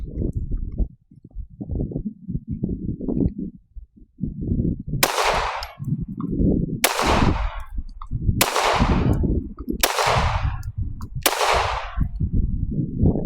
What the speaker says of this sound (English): these last 5 rounds of the RECOIL American Sniper 124 grain full metal jacket